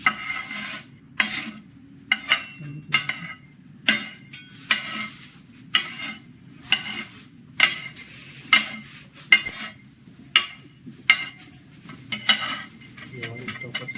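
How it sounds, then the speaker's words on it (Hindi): A steel trowel mixes cement paste with water for a standard consistency test, making a rhythmic series of sharp scraping strokes about once a second that sound close and clear over faint background noise. "अच्छा सा पेस्ट बनाएंगे with the help of trowel"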